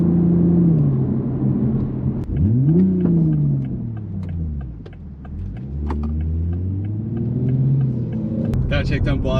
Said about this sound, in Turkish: Gerçekten mükemmel hızlanması aracın.